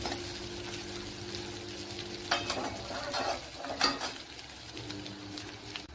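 Crushed ginger sautés in sesame oil for fish fried rice, giving a faint, steady sizzle with a few louder scrapes of a stirring spoon against the pan near the middle.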